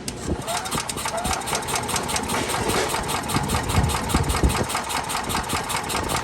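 A junk Hyundai golf cart engine cranks and catches, running with a loud, steady, rough mechanical clatter close by for several seconds.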